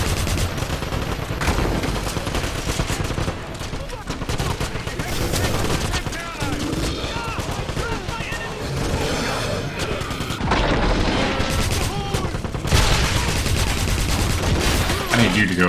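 Dense, sustained suppressing gunfire and booming blasts rattle continuously for the whole stretch in the Wolfenstein (2009) PC video game, loud and close.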